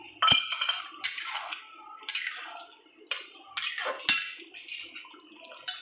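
Lentil fritters (bora) drop into a simmering vegetable curry pot, giving a series of soft wet plops and light clinks against the pot, spaced about a second apart, close by with no talking.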